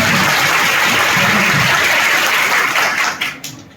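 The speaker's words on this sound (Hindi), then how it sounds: "दो मुझे जोरदार ताली" Applause from an audience at a poetry recitation during a ring ceremony at a college, dense and continuous clapping that fades out toward the end, with no talking.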